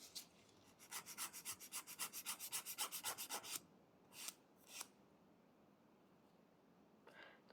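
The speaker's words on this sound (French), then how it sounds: "Et toujours avec ma lime grain 100-180, je vais venir faire la mise en forme." Rhythmic rasping of a 100/180 grit file shaping a nail extension, a run of about fifteen quick even strokes close up, then two or three isolated strokes after a pause, faint and without talk.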